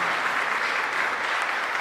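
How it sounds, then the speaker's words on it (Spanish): Steady, dense applause from a church congregation at a Sunday parish service in Asunción, continuous and even throughout with no voices above it. "Fuerte el aplauso para el Señor."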